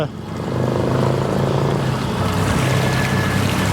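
A small boat's Yamaha 9.9 HP outboard motor drones steadily at cruising speed, a continuous low hum with water rushing alongside.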